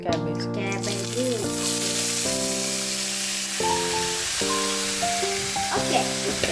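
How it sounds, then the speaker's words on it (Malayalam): Cabbage being stir-fried in a pan with popped mustard seeds and curry leaves for a Kerala cabbage thoran, giving a steady close sizzle that runs throughout, with someone talking over it and occasional clinks from stirring. "കടുക് പൊട്ടിയിട്ടുണ്ട്. ഇനി വേപ്പില ഇടണം. ഇനി ഇത് ക്യാബേജ്."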